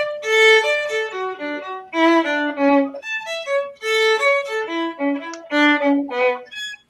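Bach's Chaconne played with deliberately exaggerated rhythmic phrasing, each bowed phrase swelling and pulling back. Clear solo tones come in short grouped bursts separated by brief pauses.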